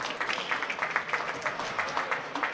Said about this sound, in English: can we have a round of applause for tonight's flag skaters